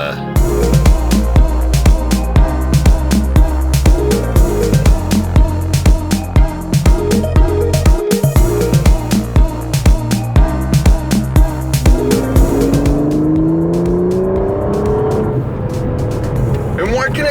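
An Aston Martin with a 730-horsepower V12, rear-wheel drive, pulls hard under acceleration, its loud, busy engine note rising through gears. The car sounds close, and a gear change or lift comes partway through before the revs climb again.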